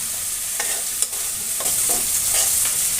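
Fried potatoes stirred into sizzling spice masala for Bengali aloo dum, a steady close frying hiss with scraping strokes of the spoon against the pan, no talk.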